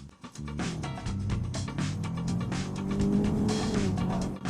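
An abandoned car, pulled out of the snow, runs with a rough engine drone and rising revs close by, holding steady throughout.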